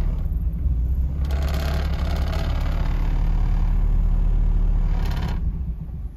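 A car engine running steadily under hand-held throttle because it won't idle with the tack hooked up, a constant low rumble throughout with a brief rise in revs near the middle.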